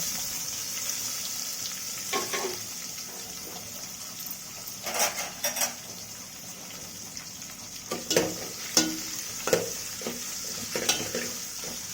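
Onion frying with curry leaves in a pan, a faint steady sizzle under scattered stirring scrapes and light clinks, fairly close and with no talk.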